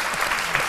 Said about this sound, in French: nous allons, comme de tradition, vous accompagner avec juste un sourire et quelques applaudissements